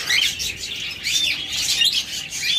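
Caged lovebirds chirp in a continuous, overlapping chatter of high, thin tweets, close and fairly loud with no talking.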